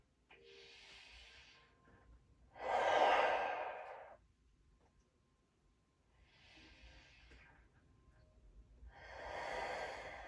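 Slow, audible breaths taken during a seated stretching exercise: four long airy exhales and inhales, alternating soft and stronger, close and with no talking.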